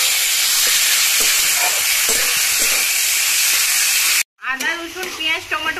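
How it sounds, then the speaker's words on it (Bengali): Garlic paste, ginger paste and chopped tomato sizzle and hiss as they are stirred and sautéed with onion in a pan, a close, steady frying sound that breaks off briefly before a voice speaks over it. "দিয়ে দিচ্ছি রসুন বাটা, আদা বাটা, টমেটো একসাথে খুব ভালোভাবে কষিয়ে নেব"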